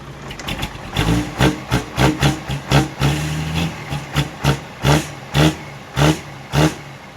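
A car with a quick-revving engine is blipped repeatedly up close, giving about a dozen sharp, evenly spaced revs that rise and fall over a steady idle.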